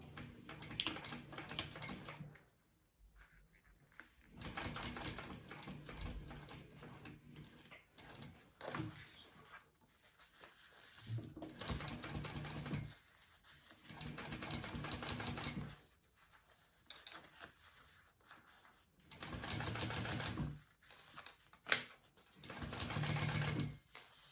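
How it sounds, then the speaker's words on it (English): Runs of a sewing machine top stitching around two fabric panels, steady rapid whirring that stops and starts every few seconds, fairly quiet and close. "And now I'm going to just top stitch around these 2 panels."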